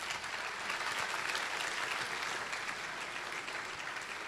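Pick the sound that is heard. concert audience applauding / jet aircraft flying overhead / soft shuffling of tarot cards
concert audience applauding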